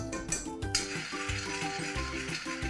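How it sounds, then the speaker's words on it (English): A teaspoon of garlic paste sizzles in hot olive oil in a pan, a close bright hiss overlaid by rhythmic stirring scrapes and clinks of a utensil against the cookware. "The oil is hot. I'm going to add a teaspoon of garlic paste."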